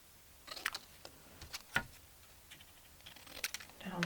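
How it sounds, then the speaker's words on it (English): Scissors cutting collage paper down to size make a few short, crisp snips and clicks at uneven intervals, close and quiet against a soft background. "I'm gonna cut this down some more"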